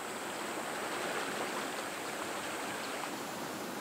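Broad, steady rush of flowing water from the Agano River, a large first-class river in Niigata, Japan, heard close and continuous with no voices over it.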